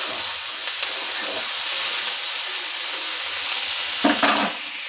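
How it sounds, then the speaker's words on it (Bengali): Shrimp and ridge gourd fry in a partly covered pan, a steady loud sizzle and hiss filling the scene, with a brief stir or clatter near the end. "এইভাবে হালকা ঢেকে এটাকে ভালো করে ভেজে নেব।"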